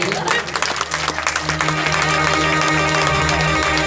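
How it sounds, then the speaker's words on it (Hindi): Audience applause at a religious discourse in Gonda, Uttar Pradesh, a dense continuous clapping that swells and holds steady under a sustained tonal hum, fairly loud and close throughout. "आप लोग ताली गड़गड़ा दीजिए"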